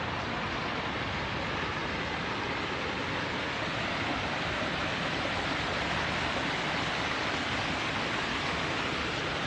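A waterfall feature at a luxury villa with a natural pool, its water falling in a constant broad rushing wash, close and steady, with no voices.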